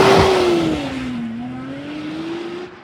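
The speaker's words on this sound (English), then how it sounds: "Even this one that has an extremely quiet exhaust and a stock blow-off valve, it still makes really, really, really good noises." A Nissan Skyline R34 GT-R with a stock, very quiet exhaust and stock blow-off valve gives a short engine burst up front, then settles into a steady, fading engine hum with no talk.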